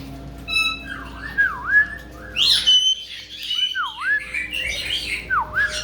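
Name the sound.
pet bird squawking and whistling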